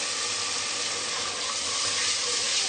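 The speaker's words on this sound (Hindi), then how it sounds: "साथ ही हम थोड़ा सा पानी डालेंगे" Water poured into masala frying in a pan with dried fenugreek leaves, for Pakistani kadhi pakora, giving a steady, close, hissing rush that holds for a few seconds without any talking.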